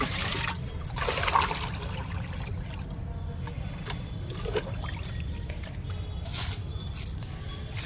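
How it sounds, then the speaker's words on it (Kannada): Water trickles and splashes steadily onto garden plants as they are watered, over a low, rough background rumble, with a few soft dribbling bursts along the way. "ಸ್ವಲ್ಪ ಗಿಡಗಳಿಗೆ ನೀರು ಕೊಡೋದು ಸ್ವಲ್ಪ ಸ್ವಲ್ಪ ನೀರು ಹಾಕೋದು"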